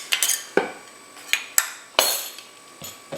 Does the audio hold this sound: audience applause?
no